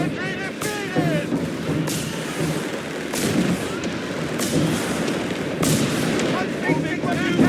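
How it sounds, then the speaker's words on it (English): Stuka dive-bomber fire and explosions in the North Africa battle of Company of Heroes 3 bring repeated sharp booms and gunfire bursts over constant battlefield noise, with soldiers' voices shouting throughout. "Fucking Stuka firing!"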